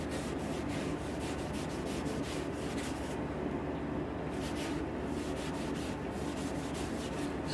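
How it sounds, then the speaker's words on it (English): Sandpaper rubs continuously against a spalted oak bowl spinning on a wood lathe, giving a steady, moderately faint rasping hiss over the motor's hum. "So I will get this sanded down"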